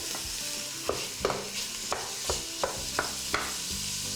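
Meat substitute being crushed and broken into pieces in a frying pan, a steady low sizzle under repeated scraping and pressing knocks from a utensil, several distinct strikes spaced about half a second apart, close and fairly quiet.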